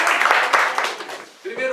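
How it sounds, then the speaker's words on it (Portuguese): Congregation in a church service clapping to welcome visitors, a dense burst of applause that fades briefly before a voice resumes near the end. "Uma salva de palmas."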